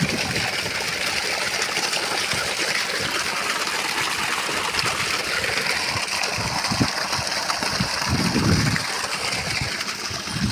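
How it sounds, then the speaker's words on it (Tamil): Water gushes from a 2-inch delivery pipe of a generator-run borewell pump rated for 330 feet in Manachanallur, Trichy district, a continuous loud rushing stream with some low splashing surges. "தண்ணி 2 இன்ச்சு டெலிவரி நல்லா போயிட்டுருக்கு"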